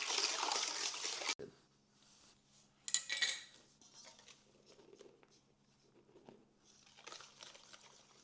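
Eggs, milk, buttermilk and sugar are whisked in a big mixing bowl, giving quiet, irregular clinking and sloshing taps of the whisk against the bowl after a brief louder burst at the start, with no talking.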